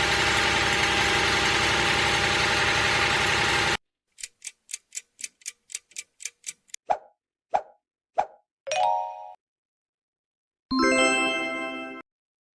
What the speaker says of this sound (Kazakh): Бұл комбайн.